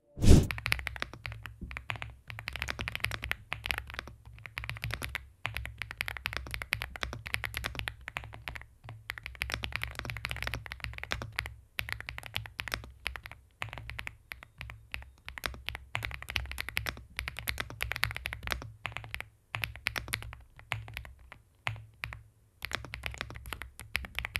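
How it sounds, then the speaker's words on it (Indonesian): Continuous rapid typing on an MCHOSE GX87 mechanical keyboard, soft, rounded key clacks in a dense steady stream, close by and without speech. "Yang buat si keyboard ini tuh bunyinya se-creamy ini loh"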